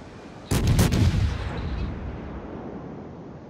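Naval guns fire in a warship video game, a sudden heavy booming salvo of several rapid blasts followed by a long fading rumble.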